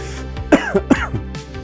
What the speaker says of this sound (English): Don't cough in the mic.